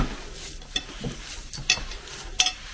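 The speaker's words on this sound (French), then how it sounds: "Bien mélanger l'eau de fleur d'oranger avec la semoule, le beurre et la farine." Semolina, butter and flour being mixed with orange blossom water in a bowl, soft scraping and stirring with a few light clinks of utensil against the dish, close and quiet.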